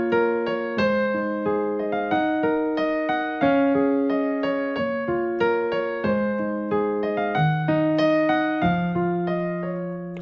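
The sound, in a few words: piano playing parts 1 and 2 of a song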